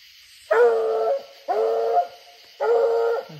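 Young coonhound pup baying at a raccoon up a tree at night: three long, drawn-out bawling barks, each about half a second to a second, evenly spaced and fairly close, with no talk.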